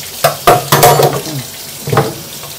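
Kitchen tap water splashing while pickled plums are rinsed in a bowl, heard as loud close bursts of running and spattering water in short uneven spurts, alone without speech.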